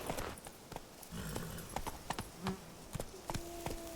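Roach the horse clip-clops along in The Witcher 3: Blood and Wine, hooves striking in an irregular rhythm over faint ambient game sound, with a brief snort or whinny near the end.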